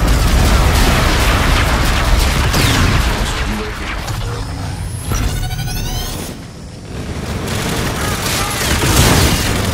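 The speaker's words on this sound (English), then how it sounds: "Danger close, ground team. Missiles incoming." Incoming missile strikes in a multiplayer hardpoint match of the game Call of Duty Infinite Warfare: loud, continuous booming blasts and rumbling gunfire fill the whole stretch, with a brief lull midway and some talk underneath.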